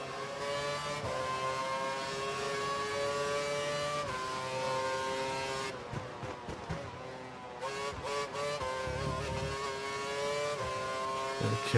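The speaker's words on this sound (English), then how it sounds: "We think the car behind is running on full revs." An F1 2012 race car engine screams at full revs in the video game, a continuous high, harmonic-rich whine with brief dips and shifts as gears change, steady and loud throughout with no talk.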